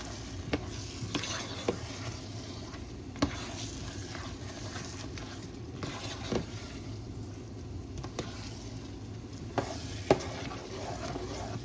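Homemade apple pie filling thickened with flour, simmering and stirred in a pot, a steady soft bubbling sizzle broken by occasional clinks and scrapes of the spoon against the pot, close by with no talking.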